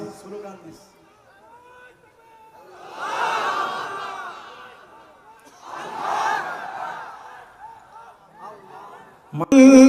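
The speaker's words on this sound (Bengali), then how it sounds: "একজন স্লোগান দিচ্ছে" A crowd chants a slogan in unison during a religious gathering, with two swelling waves of many voices, loud and somewhat distant, separated by quieter gaps.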